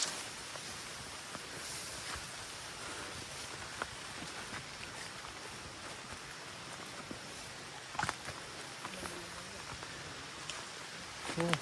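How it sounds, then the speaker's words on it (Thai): Rain beginning to fall outdoors at a hillside farm in Thailand, a faint steady hiss with scattered patter and rustling, and a few brief knocks and bumps nearby. "ฝนเริ่มตกแล้ว"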